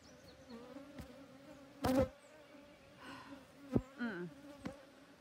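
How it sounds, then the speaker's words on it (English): Honey bees buzz at an opened hive, a faint steady drone close by, with sharp clicks, bumps and brief handling noises breaking in now and then. "we had to let the bees calm down for a few minutes"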